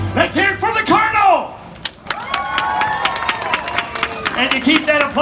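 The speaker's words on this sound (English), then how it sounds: "And to keep that applause going" Crowd at a theme park Wild West stunt show applauding and cheering while an announcer's amplified voice talks over them, the clapping steady and fairly loud throughout.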